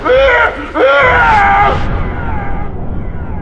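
A man screams loudly in a drama, a long strained cry sliding in pitch with a brief break, then fading into background noise and hiss.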